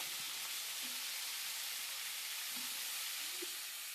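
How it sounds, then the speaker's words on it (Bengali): Moringa drumsticks and potatoes fry in hot oil, giving a steady, close, loud sizzle and hiss throughout, with a few faint clinks from stirring. "এবারে এই তেলের মধ্যে আমি ভেজে নিব সজনে ডাঁটা"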